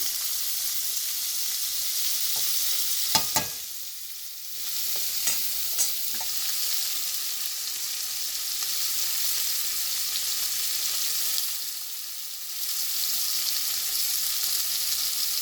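Paneer chukka frying in a pan makes a steady, close hiss that runs the whole way through, with a few sharp clinks of a utensil against the pan near the start and a brief dip in the sizzle partway along.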